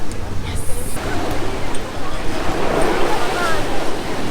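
Surf washing onto the beach at Nice, France, a steady broadband wash with gusts of wind noise against the microphone, moderately loud and continuous throughout.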